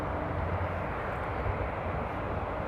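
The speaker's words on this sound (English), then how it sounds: "they are taking off on runway 24 and 36 center" An aircraft taking off from an airport runway in windy weather gives a steady, loud, broadband jet roar that holds evenly throughout, with no voices present.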